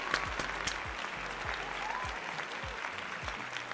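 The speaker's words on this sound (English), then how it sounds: "give yourself a round of applause" A small room of people claps in a scattered, steady patter of applause, fairly close, over a low background hum, with a rhythmic low thump recurring beneath it.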